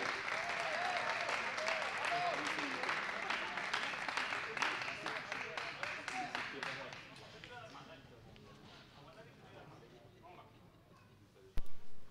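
A crowd at a padel match claps in a dense, sustained burst that fades to scattered claps, with voices mixed in and a sharp knock near the end.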